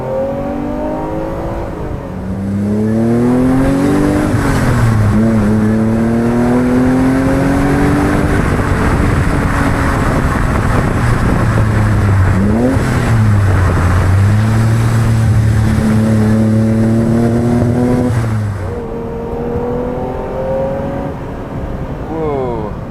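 A Ferrari 330 GTC V12 revs hard under acceleration, its pitch climbing through several gear changes in a loud, sustained howl that fades slightly toward the end, with people talking over it.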